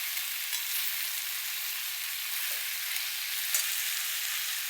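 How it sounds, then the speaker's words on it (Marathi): Onion, ridge gourd and mixed vegetables frying in hot oil in a pan, giving a constant close sizzle with a few faint clinks, and no voices. "असे आपलं सगळं असं तेलात चांगलं परतून घ्यायचं, कांदा वगैरे."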